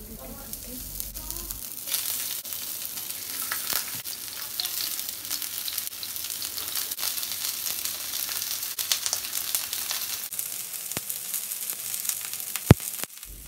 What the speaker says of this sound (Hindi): आज इस पर थोड़ा सा ऑयल डालेंगे क्योंकि हम शेलो फ्राई कर रहे हैं